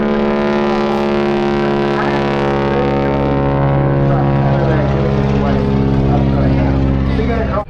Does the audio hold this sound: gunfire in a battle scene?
no